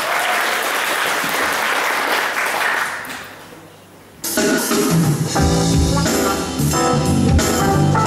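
An audience at a Polish poetry competition claps loudly for the poet Michał Fabiański; the dense applause fades out, stops briefly, then breaks out again and keeps going strong.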